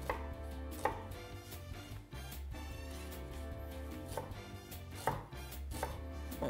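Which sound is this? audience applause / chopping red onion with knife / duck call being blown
chopping red onion with knife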